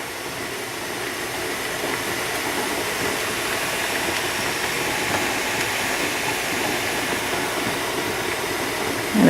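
Steady hiss of steam venting from a Presto pressure canner while canning pulled pork, even and continuous with no pauses, fairly loud and close.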